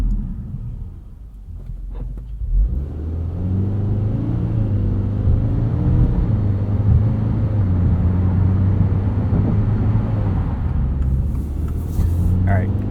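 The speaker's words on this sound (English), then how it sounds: "it will make fake shifts between gears that don't really exist, but let's show you guys what that sounds like right here" A 2022 Subaru WRX GT with a CVT in sport mode revs steadily from inside the cabin, its engine drone stepping through simulated gear shifts in a continuous low rumble with no talk over it.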